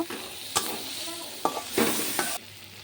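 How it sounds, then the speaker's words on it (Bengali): Pieces of fried fish and potatoes are stir-fried together again in a hot pan for a home-style fish curry. A soft continuous sizzle is punctuated by several sharp scraping stirs of a spatula, with no voices. "আমি এখানে মাছ আর আলুগুলো যে ভেজে রেখেছিলাম দিয়ে ভালো করে আবারও একটু কষিয়ে নেব"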